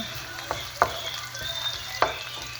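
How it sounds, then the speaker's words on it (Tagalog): Ginger fries in a pan with a constant close sizzle, broken by a few sharp scrapes and clacks of a utensil as it is stirred. "Sabay na po natin yung ating luya. Imikos-mikos lang po natin para lumabas yung kanyang aroma."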